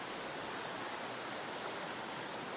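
A mountain creek near a garden flows steadily, a soft, even wash of water that stays constant and fairly faint throughout, with no talking.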